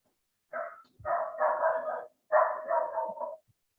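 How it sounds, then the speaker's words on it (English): A neighbour's dog barks in two clear bursts, a run of several harsh barks followed after a short gap by another volley, fairly close and loud with no talk over it. "it's the neighbour's dog."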